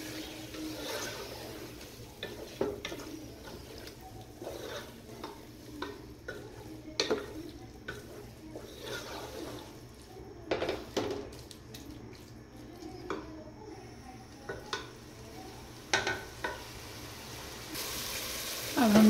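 A spoon stirs ketchup through a sizzling macaroni masala mixture in a pan, with soy sauce already added, making repeated scraping clinks over a steady fry hiss, close and moderately loud.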